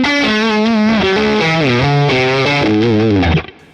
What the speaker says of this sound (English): It's a really well controlled fuzz style distortion.